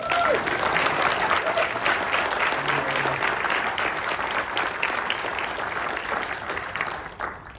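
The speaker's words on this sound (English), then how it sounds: "So we just give a round of applause to these guys." A panel audience at a PAX East video game convention applauds a group of students, steady dense clapping that carries on for several seconds before tapering off near the end.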